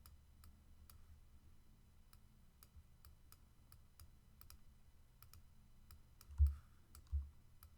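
Computer keyboard keys pressed during Photoshop work: sparse, faint clicks at an uneven pace in a quiet room, with a couple of soft low thumps near the end.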